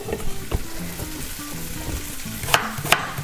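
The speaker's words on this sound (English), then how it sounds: "sweat out and caramelize the onions, not burn them." Onions sweating and caramelizing in a pan at home, a continuous close sizzle with scraping stirring strokes throughout and two sharp utensil clacks near the end.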